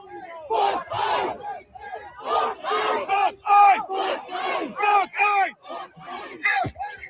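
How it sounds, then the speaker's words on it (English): Large protest crowd in Minneapolis shouting rhythmic chants in unison, loud, repeated bursts with short pauses, close and filling the scene for several seconds. "and the crowd's going big here."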